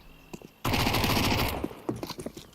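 A dense burst of rapid gunfire from USP pistols in a Counter-Strike 2 match at a tournament, lasting about a second at moderate level. Scattered fainter shots and clicks come before and after it.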